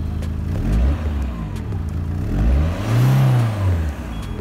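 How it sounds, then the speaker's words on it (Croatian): A Peugeot car engine revs close by, rising and falling in a few throttle bursts over a low idling hum. "Daj mu gas malo da vidiš kako se čuje kao macan"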